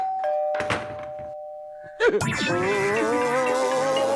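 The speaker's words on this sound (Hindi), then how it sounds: "हाँ, सुन ली भाई, घंटी सुन ली।" An electronic doorbell chimes with a steady tone, followed by a burst of clattering and a sustained wavering buzz or hum.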